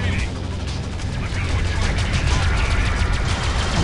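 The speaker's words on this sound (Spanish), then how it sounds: "Disparar con esa torreta." Turret guns blasting a docking station in the space game Freelancer, a rapid, unbroken barrage of crackling shots over a heavy low rumble, loud and sustained, with a voice talking over it.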